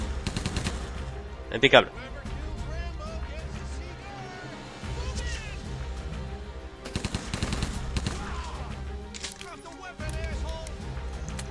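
Bursts of machine-gun fire in the Rambo video game, sharp rapid volleys separated by quieter stretches, with someone talking over and between the shots.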